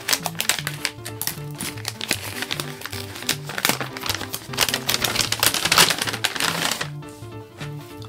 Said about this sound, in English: I'll cut this up.